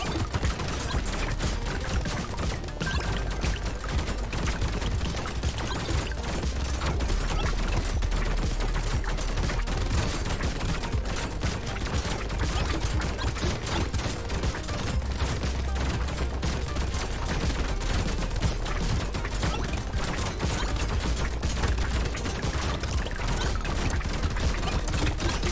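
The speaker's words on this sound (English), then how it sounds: "Guns go burr." Dense, continuous gunfire from guns and a minigun in the video game Brotato, a steady loud barrage of rapid shots lasting throughout with no pauses.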